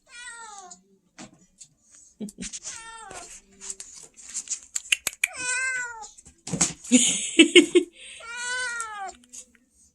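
A pet cat meows insistently for food, close by and loud, with repeated rising and falling cries in quick bursts and brief pauses between them.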